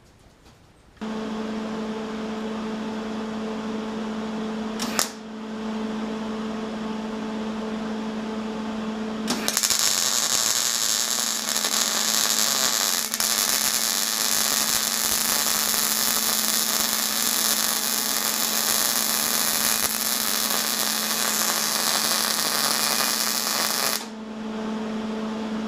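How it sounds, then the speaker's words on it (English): An electric welder hums steadily once switched on, then a loud, sustained crackling buzz sets in and holds for about fifteen seconds before cutting off back to the hum. "let's fire this welder up."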